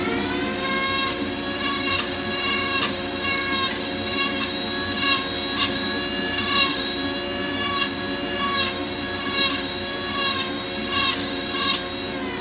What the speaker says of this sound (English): That's letting the burr run, right?